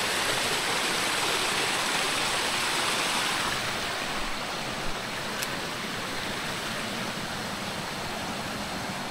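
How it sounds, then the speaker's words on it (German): A mountain stream with a small waterfall rushes steadily downstream, a loud, continuous broadband water roar with no pauses and no voices. "ist auch noch mal sowas wie ein Wasserfall."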